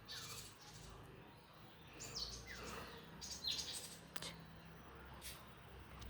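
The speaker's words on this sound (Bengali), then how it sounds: "পাখিগুলো ডাকছে।" Small birds chirping near a nest hole, brief high tweets scattered over a faint outdoor background, fairly distant and quiet.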